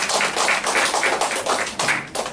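A church congregation gives a round of applause of thanks to God, a dense burst of many hands clapping together in a hall, loud and close, lasting a couple of seconds with no talk.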